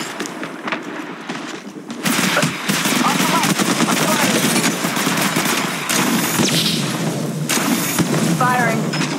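Rapid automatic gunfire from a battle royale shooter, Apex Legends, crackling loud and steady through most of the stretch, with short bursts and pauses layered over busy game noise and occasional voice chatter.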